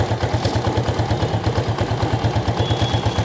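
A modified Road Master 80cc motorcycle engine idles at low revs with a close, loud, fast regular putter and a faint mechanical clatter.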